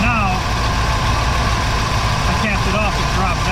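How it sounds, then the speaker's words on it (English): A car engine idles steadily after an open vacuum port is capped, giving a loud, continuous, close rumble throughout. "I capped it off, it dropped down. Now if you listen, you'll hear it idle up."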